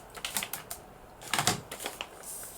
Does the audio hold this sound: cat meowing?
no